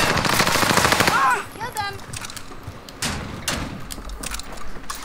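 Gunfire in the Warzone Pacific battle royale game: loud rapid automatic bursts dominate the first second and a half, followed by scattered shots and impacts under ongoing game noise, with a voice speaking briefly.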